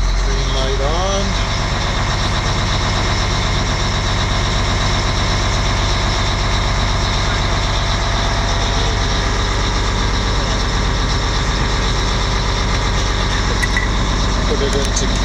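A pump truck's engine idles steadily with its pump engaged, giving a loud, constant low rumble and drone throughout while someone talks over it.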